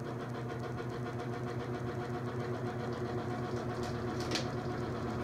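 A GE five-wing box fan with slightly wobbling blades runs on its low setting, giving a faint, steady mechanical hum with a faint pulsing flutter.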